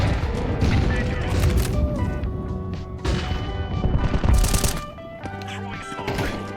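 Video game combat with gunfire and grenade blasts: rapid shots, crashes and heavy booms pile up loudly and close, with voices calling out over the din.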